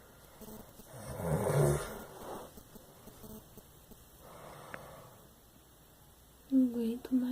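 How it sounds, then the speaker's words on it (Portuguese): A sleeping person snores loudly in one rasping breath, then a fainter second snore follows, and a voice speaks briefly near the end. "Tá vendo como você ronca?"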